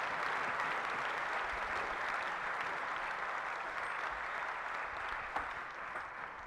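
An arena crowd at the men's final of the 2017 national table tennis championships claps and cheers, a dense, even wall of applause that holds throughout and fades only slightly at the end.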